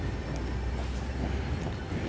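A train rolling along in the video game Hello Neighbor Act 3, giving a steady, continuous low rumble with faint rail clatter throughout, fairly loud and with no voices over it.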